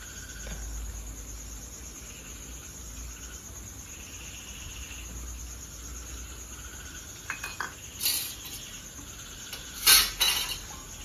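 A lid goes onto a cooking pot while mustard paneer chicken steams in a village kitchen: a few sharp metallic clanks and clatters near the end over a constant background of chirping crickets.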